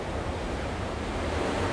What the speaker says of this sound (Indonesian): Jadi semacam pompa ya, didorong oleh ombak dan ombaknya menghasilkan angin